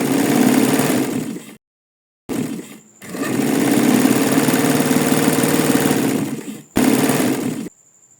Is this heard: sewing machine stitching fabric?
yes